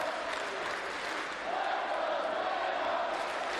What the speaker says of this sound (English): It's finally brought this Kansas City crowd to its feet.